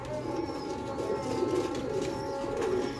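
A pigeon cooing close by in a low, throaty, continuous murmur over a steady background hum, with no talk.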